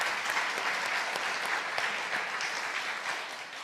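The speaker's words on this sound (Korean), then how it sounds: "박수 한번 격려할까요?" Church congregation applauding during a Sunday worship service, a dense, steady wash of many hands clapping that holds for several seconds before easing slightly at the end.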